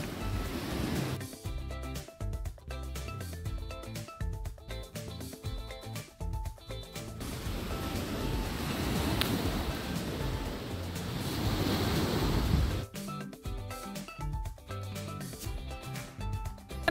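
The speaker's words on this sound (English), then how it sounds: "Chilling on a beach on Lake Michigan" Waves washing onto a Lake Michigan beach in northern Michigan, a steady broad surf wash with some wind noise, loudest in the middle stretch and continuing throughout with no voices.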